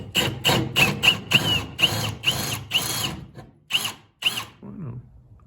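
Power drill boring holes while fitting boat lights, running in about ten short bursts of a second or less with brief pauses between them, close and fairly loud, fading out near the end.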